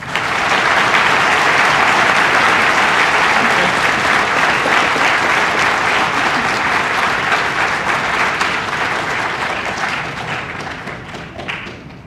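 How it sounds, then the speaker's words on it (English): A large crowd at a high school Veterans Day assembly gives sustained applause for Navy veterans, a loud, even roar of many hands clapping for about ten seconds before gradually fading out. "Please join us in a round of applause for our Navy veterans."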